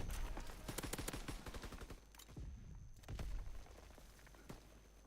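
Mounted machine gun firing in a Call of Duty WWII team deathmatch, rapid dense bursts during the first two seconds, then scattered shots and thuds fading into quieter battlefield ambience.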